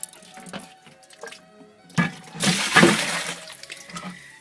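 Dirty water poured out of a water filter housing during a filter replacement, a short splashing gush that swells midway and trails off into drips and trickles, close by and with no talk.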